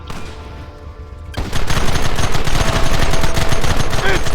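Sustained rapid gunfire from a shootout in the western game Red Dead Redemption, erupting loudly after a quieter lead-in and continuing as a dense, steady barrage of overlapping shots.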